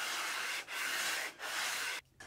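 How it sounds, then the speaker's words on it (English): Steady scratchy sanding strokes on wood, three long rubbing passes with brief pauses between, close and loud, then a short final stroke. "then do some final sanding to clean it up."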